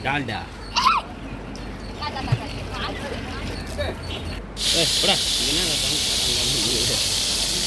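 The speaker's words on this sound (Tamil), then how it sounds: "டால்டா நல்லா கரைஞ்சி வரும்போது நம்ம எண்ணெய் சேர்த்துக்குவோம்" Dalda vegetable shortening melts in a pot for chicken dum biryani and breaks into a loud, steady hiss that starts suddenly partway through. Someone talks before the hiss and continues over it.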